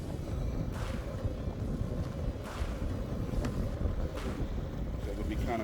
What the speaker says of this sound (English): It'll be kind of crazy with the wind blowing